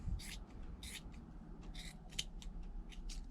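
Scissors snip through a T-shirt being cut into strips for yarn, giving a series of short, crisp, close cutting strokes in an irregular rhythm with quiet pauses between them.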